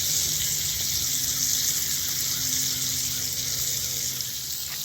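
Steak and salmon sizzle and hiss on a 48-inch Sunterra Santa Maria-style wood-fire grill. The sound is a steady, bright crackling that carries on evenly throughout, heard alone without talk.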